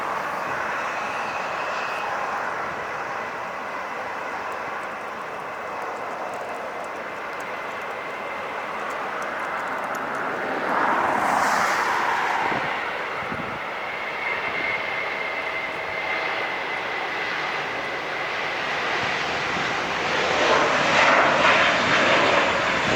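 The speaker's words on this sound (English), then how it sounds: "Let's get the Volaris takeoff now." A Volaris airliner takes off at LAX, its jet engines a broad, distant roar that swells gradually toward the end; no talking.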